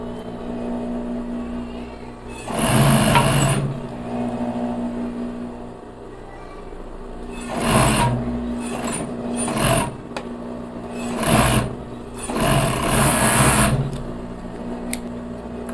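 A sewing machine stitches the side seams of a ribbed knit crop top in several loud close bursts, each a few seconds long, separated by quiet pauses.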